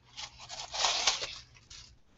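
Kombucha poured into a glass gives a short splashing, fizzy trickle that swells in the middle and then tapers off, close and fairly quiet.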